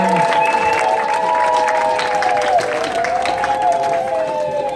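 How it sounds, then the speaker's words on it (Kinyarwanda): Loud, dense applause from a large crowd at a Rwandan wedding, steady and sustained throughout, with a few sustained tones running over the clapping. "Amashyi menshi nyabuneka rwose murabona."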